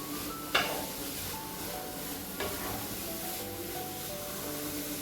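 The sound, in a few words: carrots sautéing in ghee for carrot halwa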